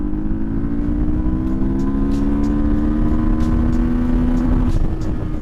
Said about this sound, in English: we'll do some pulls in third and fourth gear